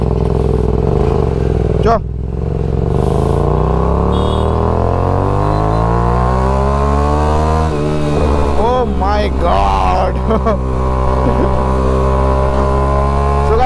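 Motorcycle with a loud aftermarket exhaust revving while being ridden, heard up close with rising and falling engine pitch sweeps and a sharp throttle blip near the start. A rider exclaims briefly over the engine noise.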